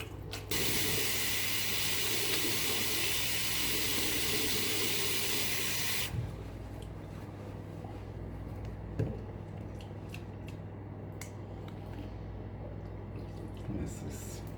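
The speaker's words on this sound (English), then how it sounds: "Wash my hands." A hotel bathroom tap runs in a steady loud hiss while hands are washed, then the flow stops and soft handling clicks and faint room sounds follow.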